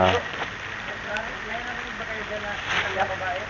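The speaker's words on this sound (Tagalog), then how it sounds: "Umuulan na." Rain begins falling outside an abandoned school, a steady, close hiss of drops with scattered patters that swells slightly toward the end, with people speaking over it.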